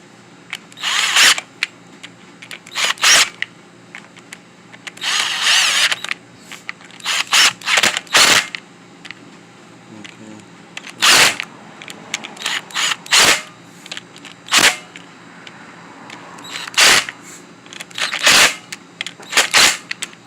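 An impact wrench works the clutch cover bolts of a 1982 Honda CB750 Nighthawk, firing repeated short bursts of hammering whirr with brief pauses between them, close and loud over a faint background hum.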